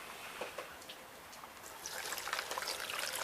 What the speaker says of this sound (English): I'll put a little bit of water in here